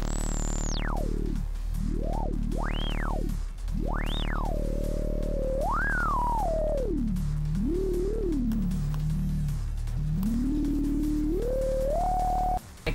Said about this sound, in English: Then you can do really fun shit like adding resonance.